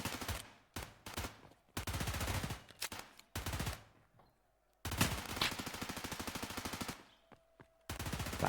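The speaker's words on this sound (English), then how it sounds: "Back and forth as the bullets cascade across the courtyard." Gunfire in a Rainbow Six Siege match, rapid automatic bursts in several separate volleys broken by short pauses, loud and close, with one long sustained stretch in the middle.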